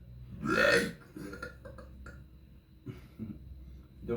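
A person lying in bed lets out one loud, drawn-out burp up close, followed by a few smaller gulping burps and throaty sounds, with no speech.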